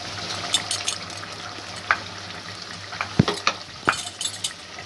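Mutton and onions frying in a pot as they are stirred, a steady close sizzle broken by several scraping, clinking stirs of a spoon against the pot, without any voices.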